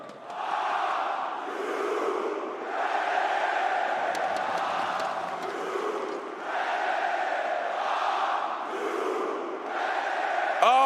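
A large esports arena crowd at a Counter-Strike final between NAVI and FaZe Clan roars and chants in loud rhythmic waves of shouting and cheering, sustained throughout.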